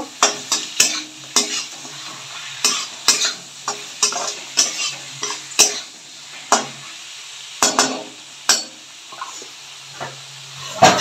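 Spring onion stems stirred and frying in a pan for a dry-fish chutney, a close sizzle broken by repeated sharp scraping strokes of the spoon at an uneven rhythm, no talking.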